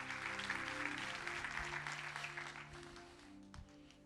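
A church congregation claps loudly to praise God, a full, steady wash of applause fading slightly toward the end over a low sustained background tone.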